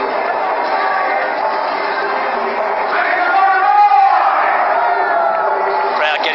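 Stadium crowd roaring and cheering throughout at a Pakistan versus Australia T20 international cricket match, a dense continuous swell of voices with whoops and yells that rises briefly in the middle, a commentator's voice faintly mixed in.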